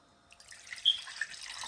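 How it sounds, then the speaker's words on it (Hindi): Water poured into a mixer jar to rinse out leftover masala, a faint close trickle and splash that starts quietly and builds into soft liquid splashing over under two seconds. "अब मिक्सर के अंदर जो भी कुछ मसाला बचा कुचा है पानी डाल के निकाल लेंगे।"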